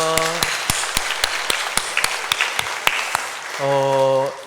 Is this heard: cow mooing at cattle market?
no